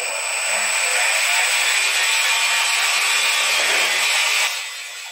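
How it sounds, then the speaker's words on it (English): An electronic lead screw drives a lathe, producing a steady, close whirring hiss with a thin high whine that cuts off near the end. "Set the pitch we want and make the lead screw go."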